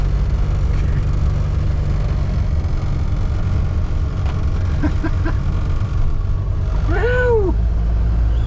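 A 1975 Ford Pinto engine rumbles steadily as the car drives, with a low, constant drone close by. A voice lets out a brief excited cheer near the end.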